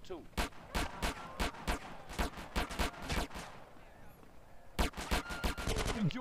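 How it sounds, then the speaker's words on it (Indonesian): Gunfire in the video game GTA San Andreas: rapid, loud bursts of shots in a dense rattling string, a brief lull, then another close volley. "Oh, ditembak kita, cok."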